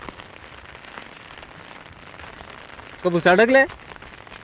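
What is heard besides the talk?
rain falling by a river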